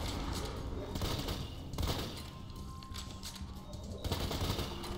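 Sniper rifle fire in Borderlands 2, several loud gun bursts spaced a second or two apart over continuous game noise, with someone talking underneath.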